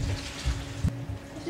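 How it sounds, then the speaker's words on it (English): Boiled macaroni water drains from a cooking pot in a home kitchen, a brief close, steady pouring gush with a short splashing burst near the end and no talking. "So now it's all ready to be drained,"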